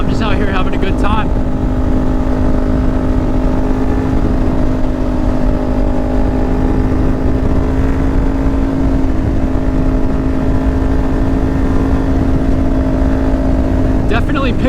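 A motorcycle rides along country roads, its engine a steady loud drone with a constant pitch and heavy wind rush the whole way through.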